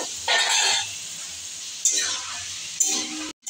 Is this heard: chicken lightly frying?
yes